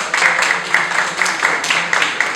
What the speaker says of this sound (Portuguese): Uma salva de palmas para o professor Iago